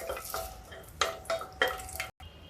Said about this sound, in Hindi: इसमें देखिए मैं 4-5 बड़ियाँ डाल देती हूँ। गैस को स्लो करके इनको भून लेते हैं।